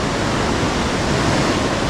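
Ocean surf breaking at a beach break in Nicaragua, a steady loud wash of broadband rushing water with no distinct individual crashes and no voices over it.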